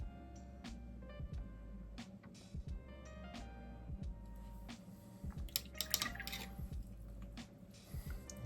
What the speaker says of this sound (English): Give the brush a quick wash